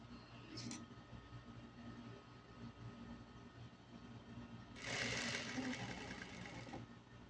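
Sewing machine stitching fabric, a steady low mechanical whir running throughout with a louder, brighter burst of fast stitching near the end, faint in a quiet room.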